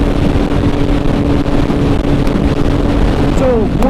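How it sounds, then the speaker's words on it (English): Loud, constant wind buffets the microphone with a heavy low rumble throughout, Ducati Panigale V4 engine-like droning underneath and a faint voice buried in the noise. "Very windy, I'm gonna have to shout"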